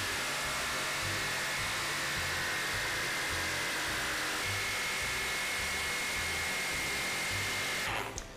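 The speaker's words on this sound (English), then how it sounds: "So now it's time to get the jigsaw and cut the window out." A jigsaw cutting a window out of a children's wooden playhouse, a loud, continuous buzzing whine with a rapid pulsing chatter that runs steadily, then stops abruptly near the end.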